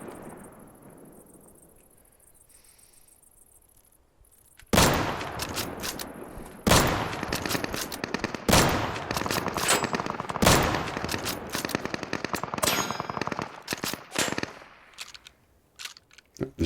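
Loud gunfire from the video game Deadside, with rapid shots and bursts fired in quick clusters after a few quiet seconds and carrying on with short pauses.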